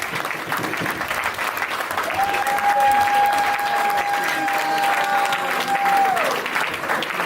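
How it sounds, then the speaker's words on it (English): Audience applause and cheering for a speaker at a conversation event in Cleveland, loud and sustained throughout with a crowd roar and a long whistle-like tone held through the middle. "Make some noise for Dr. Cornel West, Senator Ian Turner"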